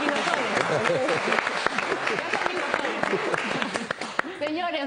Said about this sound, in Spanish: De verdad les diría un aplauso